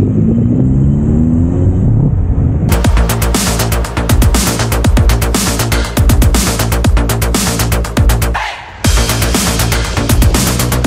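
Engine noise from cars arriving at a motorcycle meet in Vorchdorf, a loud steady rumble with passing revs and a brief dip, heard alone without talk.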